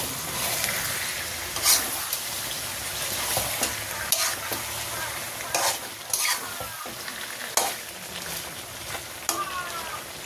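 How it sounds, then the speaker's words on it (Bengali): Potatoes frying in oil with chicken skin, liver, gizzard and feet in a village kitchen, sizzling close up with repeated scraping stirs of a spoon against the pan. "আলু দিয়ে আবার একটু কষাই নেব।"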